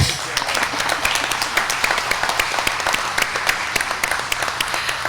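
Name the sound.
audience applause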